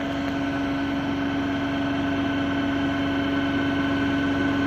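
A DC shunt motor running steadily at around 1390 RPM in a speed-control test, a constant loud hum with a strong fixed tone and a faint mechanical whir throughout.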